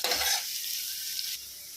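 Onions frying in a pan for masala dosa filling, with a bright close sizzle and a quick scraping stir that fades to a softer hiss.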